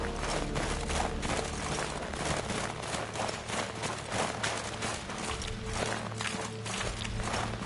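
Horse hooves clip-clop at a steady trotting rhythm in a video game set on an island, the beat of the large plow horse repeating close and loud over continuous background game noise, with no talking.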